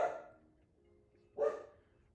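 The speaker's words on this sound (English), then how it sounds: "You're just gonna have to hear Lucy bark until she gets over it." A dog barks indoors, two separate loud barks about a second and a half apart, close by, with quiet in between and no voices.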